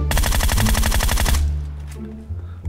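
DP-28 machine gun fire in a video game, aimed at a car: a fast, loud burst of steady rapid shots lasting about a second and a half, then an abrupt stop with low rumbling game ambience.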